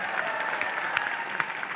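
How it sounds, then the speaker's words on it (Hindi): Loud, sustained applause from a large crowd at an anniversary event, a dense steady wash of clapping with a few sharper claps standing out, lasting the whole time with no voices. "पहले तो जोरदार तालियां"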